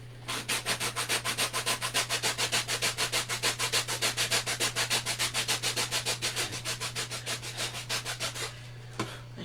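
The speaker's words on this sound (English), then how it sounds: "I'm just sanding this to take it down some" Rapid, rhythmic back-and-forth scraping of sandpaper on wood, about five strokes a second, close and steady, then stopping with a small knock.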